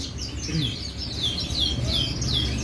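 A Scotch Fancy canary sings a repeated series of bright, swooping whistled notes at close range over a steady background hum.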